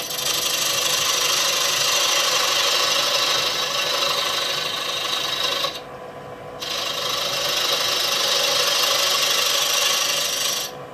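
A detailing chisel carves and scrapes a wooden toy 1929 Ford stake bed truck part, making a steady close rasping scrape that runs continuously, with one brief pause midway and then resumes.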